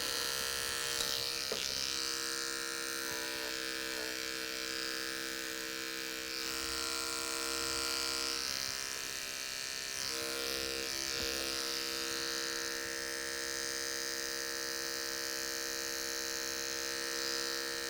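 An electric hair clipper buzzes continuously and close while cutting a man's hair, a steady whine with slight shifts in pitch as the blade moves through the hair.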